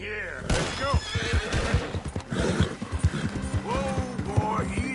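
Horse whinnies and snorts with clip-clop hoofbeats while riding in the Red Dead Redemption 2 video game, loud and close, with a voice talking over the animal throughout.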